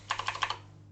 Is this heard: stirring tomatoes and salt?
no